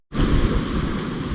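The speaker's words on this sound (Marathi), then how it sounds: "फायनली वी रीच वन मोठा धबाधबा। मॉन्सूनचा धबाधबा आम्हाला भेटलेला आहे।" A monsoon waterfall at Raigad fort, a loud, broad rushing roar that starts abruptly and stays steady close to the microphone.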